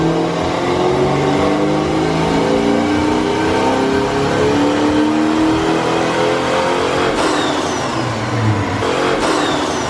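A supercharged two-valve car engine revs hard on a dynamometer during a power pull, loud and continuous with rising pitch sweeps, then drops sharply near the end before climbing again, with no talking.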